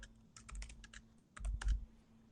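Keystrokes on a computer keyboard as commands are entered in a terminal: a quick run of light clicks with short pauses, close and fairly quiet.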